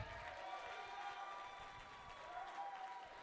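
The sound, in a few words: audience applause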